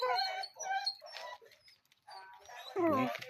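Several dogs whimper and yip close by in a string of short, high, whining cries, with a pause in the middle and a louder burst of yelping near the end.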